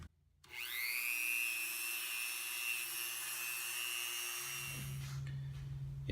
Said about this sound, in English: plunge the tip of this sanding drum into the foam